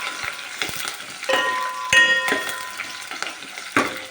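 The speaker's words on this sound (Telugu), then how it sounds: "తాలింపు గింజలు వేసుకున్నాం ఉల్లిపాయ పోపు దినుసులు ఇచ్చి మిర్చి కరివేపాకు" Mustard seeds, onion, chilli and curry leaves sizzle in hot oil in a steel pot for a South Indian tempering, with a steady crackling fry broken by several sharp metallic clinks and scrapes as the spoon stirs.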